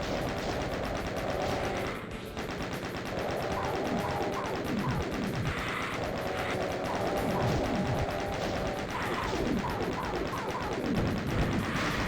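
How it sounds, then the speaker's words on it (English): Chain gun fire in DOOM II, a continuous rapid stream of shots lasting the whole stretch against a Pain Elemental and lost souls, loud and dense with brief monster cries mixed in. "I'm just going to use my chain gun here for the first bit"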